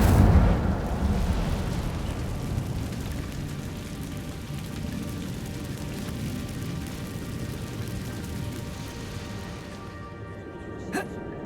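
The Incendio fire spell is cast in the video game Hogwarts Legacy, a loud whooshing burst of fire that settles into a sustained crackling roar and then fades.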